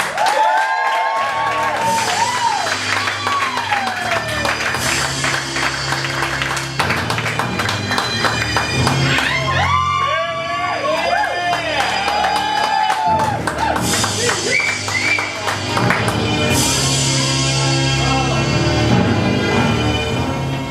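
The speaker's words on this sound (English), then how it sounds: "Thanks for almost clapping till I got to the fucking mic." Audience at a comedy roast clapping, whooping and cheering loudly and continuously, with music and voices mixed in throughout.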